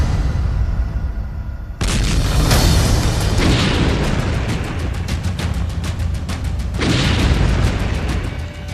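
Mortar and rocket explosions during the bombardment of Soledar, Ukraine. A loud, dense rumble of blasts hits abruptly after a quieter start, and a second heavy surge of booms follows near the end.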